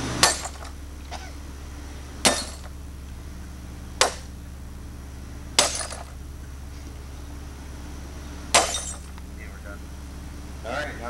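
Rocks and broken glass rattle inside a smashed scanner: a few sharp clinks and knocks spaced a second or two apart over a steady low hum, close and fairly quiet.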